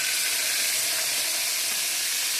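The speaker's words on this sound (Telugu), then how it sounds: "బాగా నూనె కాగిన తర్వాత నూనె కాగింది కదా, దాంట్లో ఉప్పు చేపలు వేసుకోవాలి" Salted fish pieces crackle in well-heated oil, a dense continuous sizzle held at an even level throughout, close and without speech.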